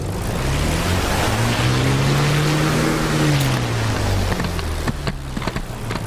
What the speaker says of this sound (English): Lovely backfire sound.